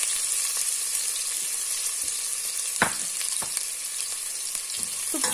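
Onion frying in oil in a pot for soup gives a steady, bright sizzle with scattered crackles and a few sharp spatter pops, close and continuous, with no voices.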